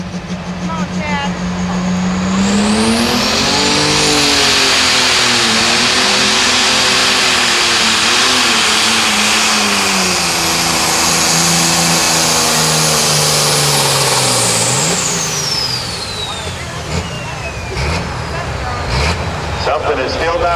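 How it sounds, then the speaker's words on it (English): Hurricane Alice, a pro stock pulling tractor with Todd Doman at the controls, roars loudly down the track at a pull in Mound City, Missouri, its engine climbing in pitch, holding a sustained howl, then dropping off sharply near the end. "did not like to hear the sound that I heard coming out of that tractor when it was going down the track"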